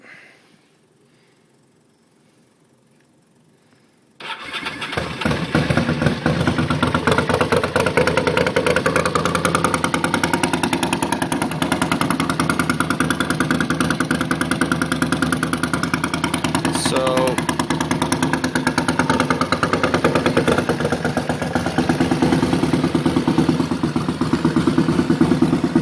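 A 1988 Ducati Paso 750 motorcycle with straight pipes, quiet at first, then firing up and settling into a loud, rough, steady idle that stays close and continuous for over twenty seconds.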